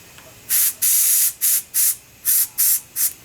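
An airbrush sprays small dots of off-white paint onto rivets on a sheet-metal paint job. Seven short, sharp bursts of close hissing follow each other in an uneven rhythm, with near silence between them.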